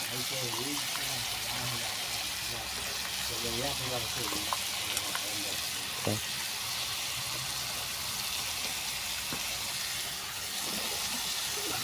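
Potatoes dropped into hot oil in a pan while cooking local chicken curry, a steady sizzle and bubbling fry with occasional stirring clinks, under a voice chatting in Assamese.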